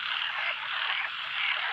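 Dense chorus of frogs calling together after rain at night as they gather to spawn, a steady continuous croaking trill close by with no voices.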